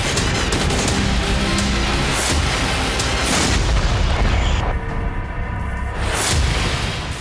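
Explosions tear through a Russian weapons depot in Belgorod, deep booming blasts and crackling detonations rolling continuously, loud and distorted, with a sharper burst near the end.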